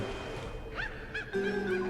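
Ducks honking in the horror video game Dark Riddle: a few short nasal honks close together, fairly clear over a steady game background tone, with no speech.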